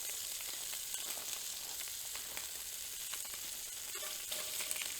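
Turkey sausage fries in a pan at a campsite, giving a continuous quiet sizzle with small pops and a few light utensil clicks, and no one speaks.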